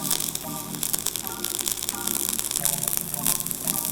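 A flux core welding arc crackles and sizzles close up while filling a beveled joint, an uneven, hissing static with bursts and pops over a low hum for about four seconds.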